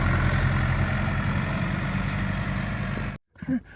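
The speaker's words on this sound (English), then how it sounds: "Tractor's just pulled up to clear the snow from the hill" A tractor sits idling on a snowy hill after pulling up to clear snow, its steady low engine rumble continuous and fairly close before cutting off abruptly near the end, followed by a brief faint knock.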